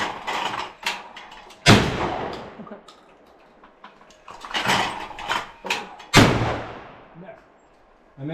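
Shotgun shots ring out at clay targets on an outdoor shooting range, with several sharp, loud blasts spaced a few seconds apart, each followed by a short echoing decay, while people talk briefly between shots.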